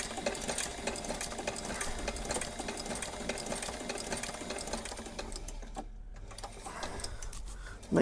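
A sewing machine stitches a tag into a pair of Cheaney Tamar leather boots, running in a steady, close mechanical whir with a brief pause near the end before restarting.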